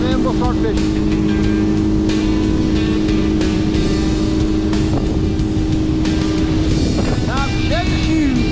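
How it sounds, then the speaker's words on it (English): An outboard motor on a Tracker Panfish 17 boat runs steadily on the water, a continuous close engine drone lasting throughout, with a person talking over it. "I haven't got to run the motor really this year, so I'm going to run it for a bit"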